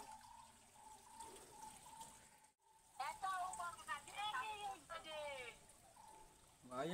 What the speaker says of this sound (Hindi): ओह ये छोटा सा वाटरफॉल है, आप देखिए ये छोटा सा वाटरफॉल है।